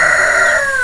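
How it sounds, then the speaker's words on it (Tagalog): A rooster crows once, loud and close, a single drawn-out call that tapers off. "Manok hindi ba?"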